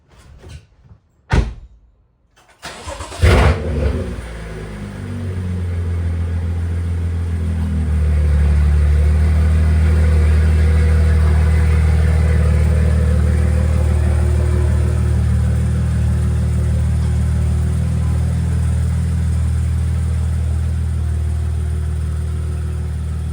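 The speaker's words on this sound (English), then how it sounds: "Dual pressure washers. So now we have them on." Two Ryobi electric pressure washers run together after a couple of sharp knocks, building into a loud, steady droning hum with a deep low rumble that holds without a break.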